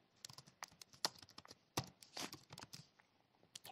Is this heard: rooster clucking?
no